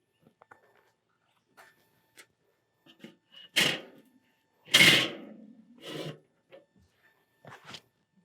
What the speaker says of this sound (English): So I'm gonna spread my coals and put the grill grate on